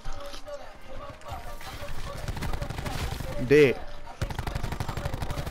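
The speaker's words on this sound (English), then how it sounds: "I'm getting shot by so many fucking people right now" Rapid bursts of video game gunfire crackle close and loud under excited gamer chatter, with one sharp louder shot standing out midway.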